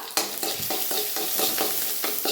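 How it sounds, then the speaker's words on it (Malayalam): Steady loud sizzling of mustard seeds frying in a pan for fish curry, with repeated scraping strokes of a spoon stirring them at a quick, even rhythm. "നമ്മുടെ കടുക് നല്ല രീതിയിലൊന്ന് പൊട്ടിക്കോട്ടെ"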